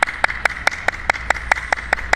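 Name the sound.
group clapping hands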